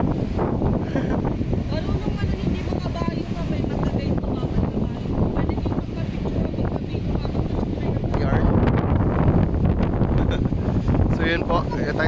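Strong wind buffets the microphone at Kapurpurawan, a rocky coastal spot near a windmill, in a constant low rumbling roar, with people talking over it throughout.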